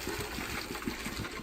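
Hot noodles and their cooking water are poured from a heavy pot into a strainer, making a steady, close rush of splashing liquid that holds evenly throughout.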